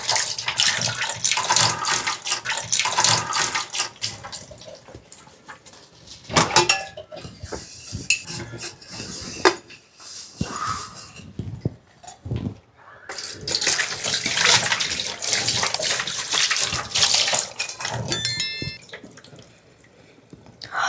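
Bowls are scrubbed with a double-layer steel scrubber under running tap water, the hiss of flowing water mixing with clinks of dishes and rough scrubbing strokes that keep stopping and starting.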